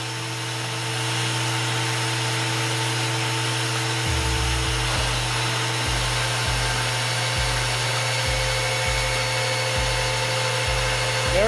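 Walter Mini IceCut magnetic base drill running at about 500 RPM and cutting mild steel: a steady, close motor whine with a low hum, plus a regular series of dull thumps as the cutter bites.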